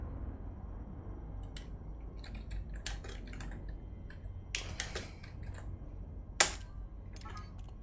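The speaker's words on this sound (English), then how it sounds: "I'm done typing." Computer keys tap in faint, scattered clicks during a livestreamed space combat game, with small bursts of keystrokes and one sharper click standing out over a low steady hum.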